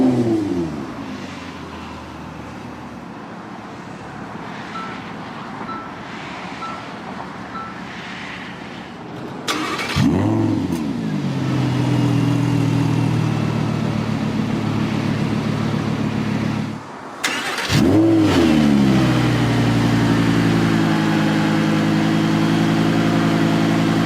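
A 2016 Lamborghini Huracán LP610-4 Spyder starts at the push of a button, its engine catching with a loud burst and settling into a deep idle, then a second sharp rev flares up before it returns to a steady, rumbling idle.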